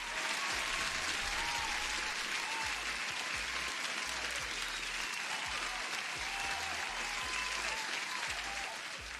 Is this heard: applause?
yes